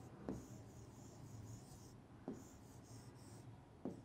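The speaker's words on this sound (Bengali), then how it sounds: "এবার আমরা উত্তরটি লিখে ফেলি।" A pen or pencil scratches steadily across paper while an answer is written out by hand for a second-grade maths problem, with continuous rubbing strokes and a few sharper taps, close and fairly quiet with no talking.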